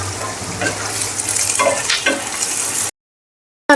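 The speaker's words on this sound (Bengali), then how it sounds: "এবার পেঁয়াজটা দিয়ে দিচ্ছি, দিয়ে তেলের সাথে ভালো করে ভেজে নেব" Chopped onions frying in oil in a pan while stirred, a loud close sizzle with spatula scrapes and a low hum, then abrupt silence before a brief return.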